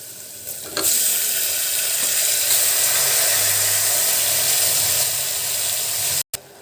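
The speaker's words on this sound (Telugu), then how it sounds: "ఇప్పుడు మటన్ వేద్దామండి" Mutton drops into a hot pot for Andhra-style mutton pulusu and erupts into a loud, steady, close sizzle with hissing steam and light stirring, cut off abruptly near the end.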